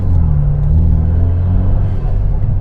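BMW F30 engine with a newly installed cold air intake, a loud low rumble that swells slightly under revving for a short stretch, close and alone.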